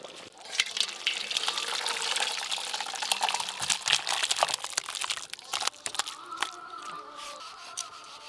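Cooked mutton curry is poured and scraped out of a pot, giving a thick wet slosh with clinks and scraping clatter of the utensil, close and uneven, tapering into softer scrapes at the end.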